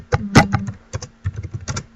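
Keystrokes on a computer keyboard come in irregular clusters of sharp clicks, close and fairly loud, with brief pauses between bursts.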